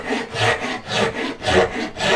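A hand saw cuts through wood in steady back-and-forth strokes, loud and close, with a rhythmic rasping push and pull about every half second and no voices.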